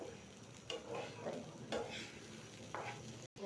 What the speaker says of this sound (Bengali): দেখো চালটা খুব সুন্দর ভাজা হয়ে গেছে